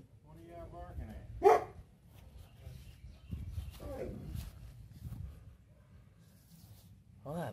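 A dog barks once or twice outdoors at moderate distance during a tire repair, with someone talking and scattered rustling and handling noises around it.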